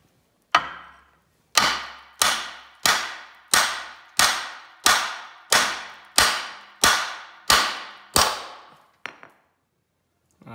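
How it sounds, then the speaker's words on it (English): A construction hammer strikes the steel sub frame of a 1981 Trans Am again and again, about ten loud, ringing metallic blows at a steady pace, each decaying quickly, followed by a couple of lighter taps. "Proper way to do it is use one of these hammers. Make sure it's a construction hammer."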